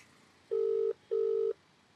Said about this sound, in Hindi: बेल जा रही है।